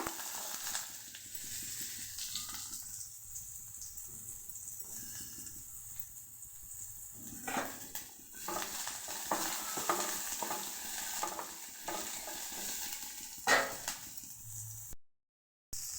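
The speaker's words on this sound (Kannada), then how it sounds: "ಸ್ವಲ್ಪ ಸಾಸಿವೆ ಹಾಕ್ತಾ ಇದ್ದೀನಿ. ಕರಿಬೇವಿನ ಸೊಪ್ಪು ಹಾಕ್ತಾ ಇದ್ದೀನಿ. ನೋಡಿ, ಒಂದೇ ಒಂದು ಈರುಳ್ಳಿ ಹಾಕ್ತಾ ಇದ್ದೀನಿ." Mustard seeds, curry leaves and onion fry in hot oil with a soft, steady sizzle, interrupted by scraping stirs and light clatter of the ladle, fairly quiet and close, with no voices.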